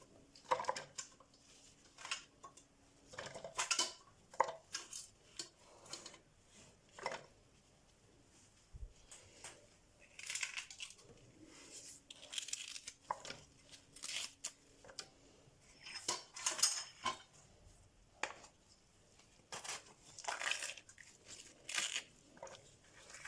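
A knife chops garlic on a board for red and green chili paste, giving quiet, irregular bursts of crisp cuts spread across a long stretch with pauses between them, and no talking.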